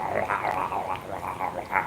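A dog growls low and steadily up close, a continuous rumbling snarl with slight rhythmic swells over about two seconds, with no talking.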